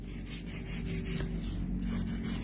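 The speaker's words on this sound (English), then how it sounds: "So right now I'm using our Ugly Duckling medium grit file." A medium grit Ugly Duckling hand file rasps across a sculpted gel nail in quick back-and-forth strokes, a close, steady rhythmic scratching with no talking.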